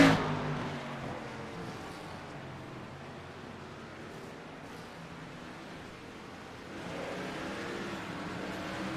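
Race cars in an iRacing sim race on the Daytona road course produce a continuous engine drone that eases down, then swells again as the cars accelerate, steady and without speech.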